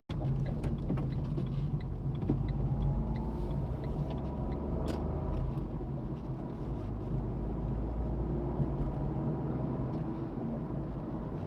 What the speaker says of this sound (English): Oh, car just come over the brow of the hill.